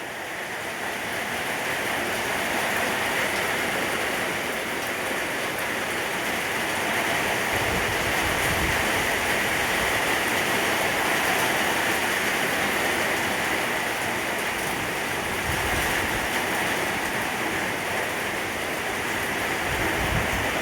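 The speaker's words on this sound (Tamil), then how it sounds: "நல்ல காற்று, நல்ல மழை, இடி" Heavy rain pours down in a dense, continuous roar during a thunderstorm, with occasional low gusts of wind swelling beneath it.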